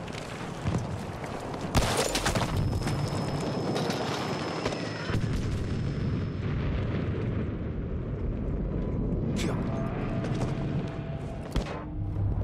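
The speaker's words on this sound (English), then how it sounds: "Bloody great tank!" A tank in Battlefield V rumbles heavily through a long stretch of battle, with a sharp blast near the start, a steady mechanical roar and grind, and more cracking shots and bangs toward the end.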